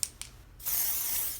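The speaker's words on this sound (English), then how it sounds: "my favorite way to apply it is to just spray it right on the face" Liquid foundation sprayed from a spray bottle straight onto the face, one long steady hiss after two short spritzes, close and clear with no talking.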